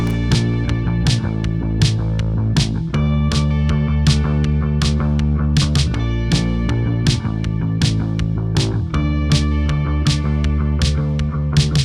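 Finished post-punk verse beat with driving drums, bass and guitar, a steady looping groove with sharp regular cymbal and snare hits over a dense sustained band texture, loud and continuous with no voices.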